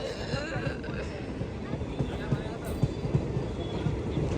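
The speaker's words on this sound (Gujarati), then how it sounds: "ટ્રેન આવી" A train pulls in with a steady, loud, low rumble broken by irregular rhythmic clacks of wheels over rail joints, close by and continuous throughout.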